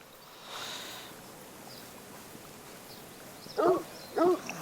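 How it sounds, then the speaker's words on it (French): Out in a hunting reserve, a blood tracking dog lets out two short, sharp barks close by after finding the game, following quiet rustling and faint background sounds. "Il a trouvé le gibier, il aboie."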